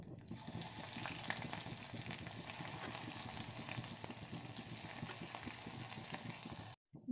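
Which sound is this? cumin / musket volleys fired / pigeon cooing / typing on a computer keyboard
cumin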